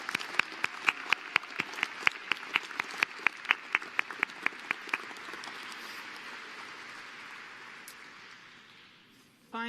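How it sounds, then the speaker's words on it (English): Applause at a civil and environmental engineering graduation celebration, a few loud distinct claps near the front ringing out in a rhythmic run over a wider crowd's clapping, which thins and fades toward the end. "So a round of applause for our CE staff."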